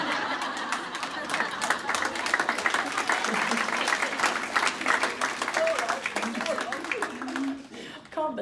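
Audience at a high tea event applauds and laughs together, a dense burst of clapping mixed with chuckles that thins out toward the end as a voice returns.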